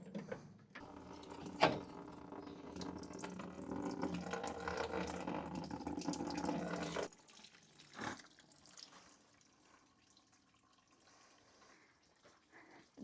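Coolant pouring and dripping out of a Ford Escort during engine work, a steady liquid splashing for several seconds that stops abruptly, followed by a few faint drips and knocks.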